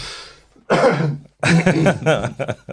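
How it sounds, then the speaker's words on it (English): A person gives a couple of loud, close throat-clearing coughs in short bursts, separated by brief silences. "I didn't have a preparatory cough. So I'm just going to do it now."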